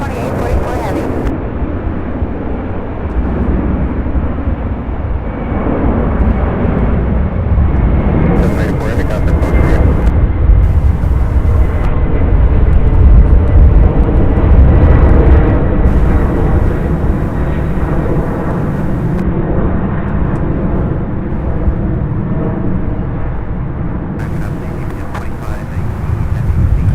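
A UPS heavy freighter jet at SDF airport, its engines producing a loud, sustained roar that swells and fades over nearly half a minute, with voices and radio chatter over it.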